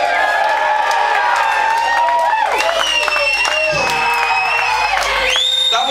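A concert crowd at a live metal show in Woy Woy cheers, whoops and applauds loudly and continuously, with shouted voices rising over the dense roar.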